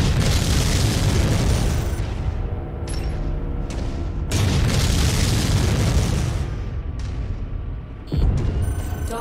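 Mechs blowing up in MechWarrior 5: Mercenaries, with loud, sustained explosion booms that swell, briefly ease and then burst again over a dense, rumbling battle din.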